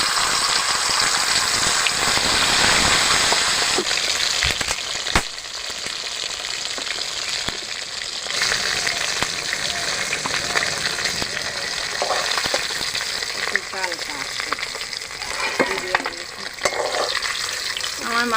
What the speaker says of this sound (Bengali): আর দুটো মাথা ভেজে নেব।